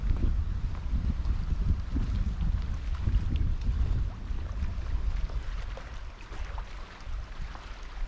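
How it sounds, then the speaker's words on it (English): Strong wind gusting at a lakeside canoe camp in the Adirondacks in fall, a constant loud, low rumble buffeting the microphone with no voices. "Wind is definitely rocking and rolling out there at this point."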